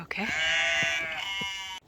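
Hungry sheep on a farm bleat in a long, loud, wavering cry close by, with a brief spoken word near the start.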